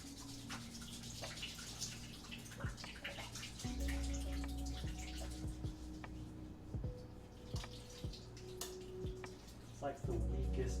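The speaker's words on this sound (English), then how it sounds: "It's like the weakest flow of water." Thin, faint trickle of water from a faulty kitchen faucet with a weak flow runs in the background, with soft drips and clinks, while low tones hum along underneath.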